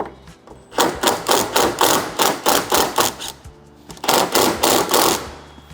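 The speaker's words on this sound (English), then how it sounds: "we're gonna loosen these bottom ones up" A wrench loosens the lower door hinge bolts on a 2019-or-later Mercedes Sprinter van fitted with 180-degree hinges. It makes a steady, close run of rhythmic clattering strokes, pauses briefly, then starts again.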